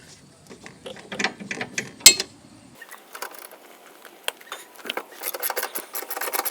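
Metallic ratcheting and clinking from a 14mm socket wrench and 14mm combination wrench loosening rear sway bar link bolts on a 2008 Hyundai Elantra 2.0L, in short bursts of clicks with a sharp clank partway.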